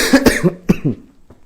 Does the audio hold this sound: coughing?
yes